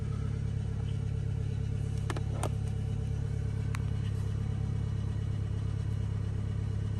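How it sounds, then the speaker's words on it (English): A 1997 Toyota Camry engine idles with a slight misfire, a steady low rumble and drone heard close, with a few faint clicks and taps over the continuous hum. "it's actually sounding better. Still got a little bit of misfire"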